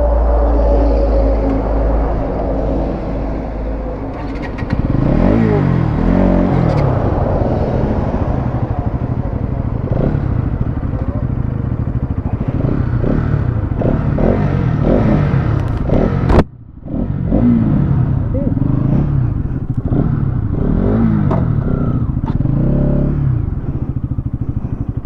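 Bajaj Pulsar NS200 motorcycles, a 2024 model and an older one, run side by side in a drag race, their engines revving loudly and close with repeated rising gear pulls, a brief drop, then more hard acceleration.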